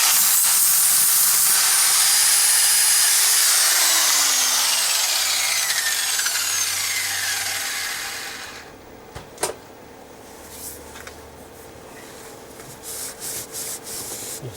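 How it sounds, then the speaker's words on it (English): Grinding off a stub of weld on a metal trivet: a loud bright screeching grind that winds down as the tool spins to a stop, followed by a few clanks and light handling knocks. "Just noticed I've got a stub of weld poking up, so let's just remove that"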